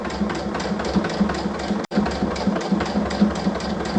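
Sewing machine stitching a pillow case with a steady, fast mechanical whir and regular rhythmic ticking of the needle, running close and continuously with a brief break midway, no talk over it.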